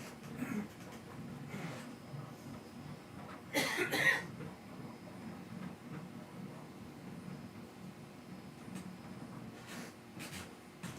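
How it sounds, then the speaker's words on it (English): A person coughs in one short, harsh burst near the middle, loud and close, set against a steady low background rumble with no talking. "I'm going to have to cough again"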